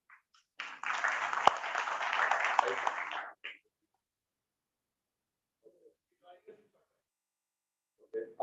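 An audience at an engineering chapter's national program bursts into dense applause for the chief guest. The clapping lasts about three seconds and then stops abruptly, leaving near-silence broken by faint, brief voices.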